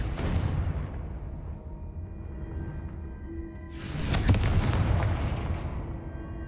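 A Confringo fire spell bursts in the video game Hogwarts Legacy, a booming explosion at the start that rumbles away, followed by a second louder blast that crackles and decays, with low background game rumble throughout.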